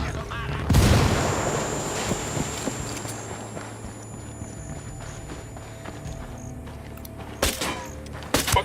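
A frag grenade blast in the Ghost Recon Wildlands tactical shooter: one loud, close burst early on, then a long rumbling tail. A few sharp gunshots crack near the end.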